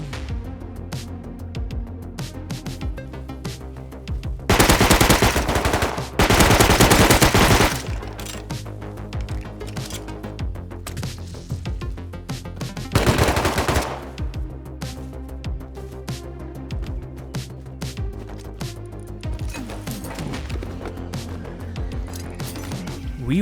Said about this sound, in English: our nearest neighbors came in and started shooting with their AKs